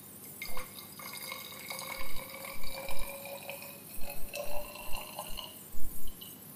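Aqueous solution and then an organic solvent are poured into a glass separating funnel in a lab, giving a series of light, close trickling drips and splashes with quiet gaps between them.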